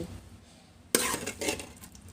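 Bamboo shoot and pork dish is scooped onto a plate: a quiet scrape, then a sharp clink of utensil against the dish and a few softer scraping, clattering touches.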